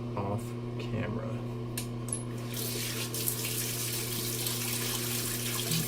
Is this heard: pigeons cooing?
no